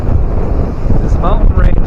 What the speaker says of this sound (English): 30-mile-an-hour gusts.